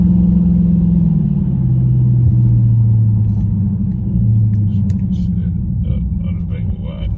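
A car with a mid muffler delete exhaust pulls hard, its deep, loud rumbling drone rising and falling in pitch close by, with faint voices and small clicks near the end.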